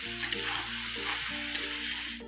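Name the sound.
vegetables stir-frying in a pan for veg fried rice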